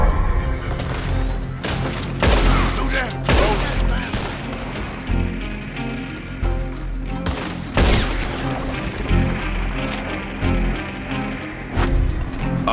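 Repeated gunshots and bursts of fire in Red Dead Redemption 2 at a bounty hunter camp, several sharp loud cracks spread across the stretch with someone talking between and over them.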